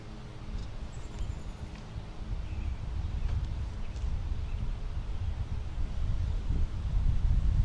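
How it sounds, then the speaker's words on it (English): Wind gusting outdoors in a garden, a steady low rumbling buffet against the microphone that grows slightly stronger toward the end, with no voices. "you see that wind lifting that up already?"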